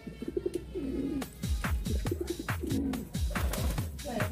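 Gondok fancy pigeons cooing, a series of repeated low swooping coos in close succession, loud and near, with some faint bird chirps and a little background noise between calls.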